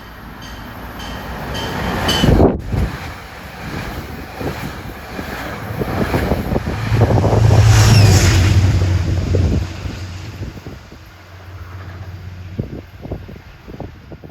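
A Metro-North train, number 876 from Poughkeepsie to Grand Central, rumbles past at Ardsley-on-Hudson, its loud rolling roar building to a peak mid-pass and then fading, with a sharp horn-like burst early on.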